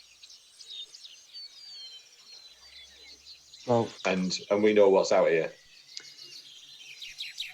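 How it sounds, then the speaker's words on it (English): Birds chirp in quick, high, twittering calls over a faint insect hum, forming a steady outdoor background. Someone talks over it partway through. "Are the normal noises still going on? Birds, bugs, bugs, etc."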